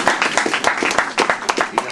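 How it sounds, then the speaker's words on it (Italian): Audience applause during an Italian music group's appearance at a Feltrinelli bookstore in Salerno, a short burst of dense clapping heard close and fairly loud, with sharp individual claps standing out. "Io credo che meritate anche un applauso."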